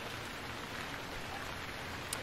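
Steady, even rain falls throughout in the survival video game Stranded Deep, a soft continuous hiss of drops on surfaces with one faint brief tick near the end.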